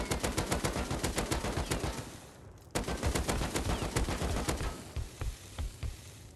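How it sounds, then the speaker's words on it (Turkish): Rapid rifle fire in the video game Rust, dense bursts of sharp shots in quick succession, pausing briefly mid-way before resuming and thinning out toward the end. "Bir 30 mermi daha reload diyorum. Hızlıca sıkıyorum."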